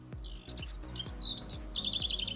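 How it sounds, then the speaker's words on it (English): Bright, quick bird chirps and warbling tweets on the Pacific Crest Trail near Campo ring out close and clear, over a steady rhythm of soft thudding footsteps. "Birds chirping."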